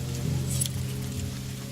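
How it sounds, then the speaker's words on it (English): Rain falling in The Banner Saga 2, a steady soft hiss of drops pattering on the ground, continuous and even, with no voices. "The darkening skies lets loose its rain, and soon fat drops of water turn the dirt path to sucking mud"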